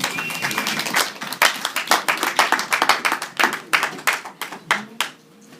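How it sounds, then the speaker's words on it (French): A church congregation applauds with brisk, dense clapping from many hands that builds, holds, then thins into scattered claps before fading out. "Est-ce que vous pouvez applaudir la parole du Seigneur?"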